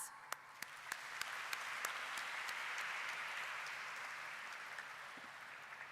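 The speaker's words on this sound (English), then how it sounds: "with a resounding of claps." Sustained applause from a seated audience at a formal investor week bell-ringing ceremony, steady dense clapping filling the hall with a few sharper individual claps standing out, fairly distant and even throughout.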